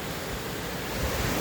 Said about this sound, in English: Look at that river, huh?